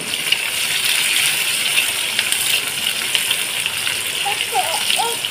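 Chopped onion and a small green chilli dropped into hot spiced oil for a Bengali fish curry, giving a steady, dense sizzle and crackle throughout with no voices over it.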